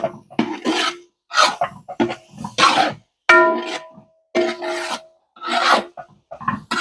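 A large catering pot of beef biryani masala for about fifty people, with mint and coriander leaves added, is stirred with loud, close rasping scrapes that come in rhythmic bursts separated by short pauses.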